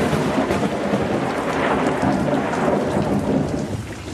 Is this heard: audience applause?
no